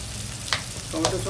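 Restaurant-style chilli fish with tomato sauce and a pinch of sugar fries in a pan, giving a continuous hiss broken by two quick spatula scrapes, heard up close.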